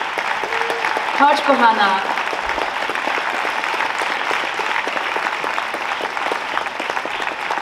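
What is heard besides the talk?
audience applause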